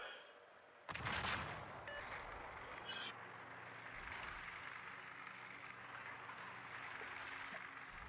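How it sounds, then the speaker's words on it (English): Warship turret guns firing in the naval game World of Warships: one loud booming salvo near the start, then a rumbling, roaring battle bed with fainter distant thuds. "That third turret did get the guns away, but a little off target."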